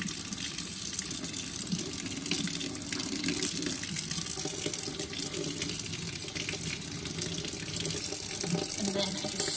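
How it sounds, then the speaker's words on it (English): A makeup brush is rinsed under a steadily running tap, soapy water splashing and gushing continuously at close range for the whole stretch. "I just keep rinsing it so that get all that soap out"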